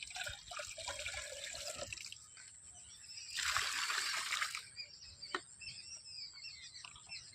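Water from a 10-litre container splashes and trickles onto cucumber plants, close and steady, with a louder gush midway, a few drips and faint birdsong behind.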